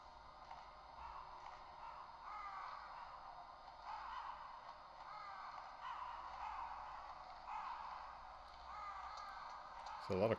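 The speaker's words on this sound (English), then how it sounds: "There's a lot of crows around here." Crows caw again and again in the Metal Gear Solid video game. The calls are faint and scratchy, repeat over a low steady hum, and end in a brief louder burst of noise.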